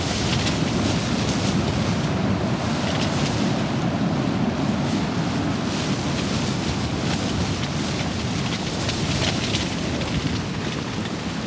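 Storm wind from Storm Otto roars steadily through trees around an expedition tent at a lake, a loud continuous rushing gust with no break and no talk.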